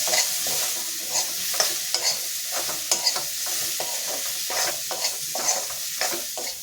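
Drumstick pods coated with chilli powder and turmeric fry in a pan, a constant close sizzle broken by regular scraping stirs and soft knocks of the spoon.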